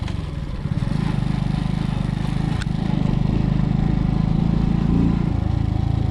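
Junak Raw 50 motorcycle with a broken, loud exhaust riding at around 62 km/h, a steady buzzing, pulsing engine drone with some clatter that holds close and strong throughout.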